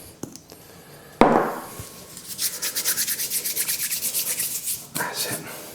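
Raw salmon fillet being rubbed by hand with salt and lemon pepper, giving a steady run of soft, rhythmic close-up rubbing strokes after a few brief knocks.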